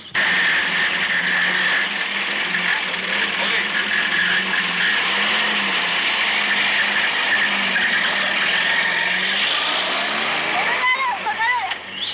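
A car engine roars steadily throughout, then revs and whines as it pulls away near the end.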